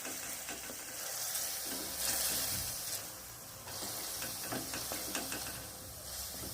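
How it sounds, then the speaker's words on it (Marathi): Split moth bean (matki) dal fries in hot oil in a pan for a dill-leaf vegetable dish, giving a continuous sizzle and hiss broken by scraping stirs, with no one talking. "एक ते 2 मिनिट आपण डाळ फ्राय करून घेऊया तेलामध्ये"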